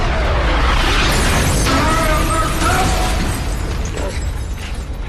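Heavy tank cannon fire with booming explosions and crashing debris, a loud sustained rumble and blasts that gradually ease toward the end, mixed with a metallic whine in a battle scene.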